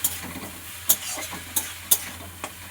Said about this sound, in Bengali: এই যে মৌরলা মাছটা দিয়ে এবার এটা একটু নাড়াচাড়া করে নেব আমি।